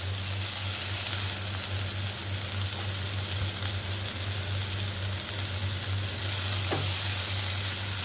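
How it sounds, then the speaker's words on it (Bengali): Gobindobhog rice frying in a pan over a low flame, an even, continuous crackling sizzle with a low hum beneath and a faint stir or two. "চালটা ভাজার সময় লো ফ্লেমে করবেন"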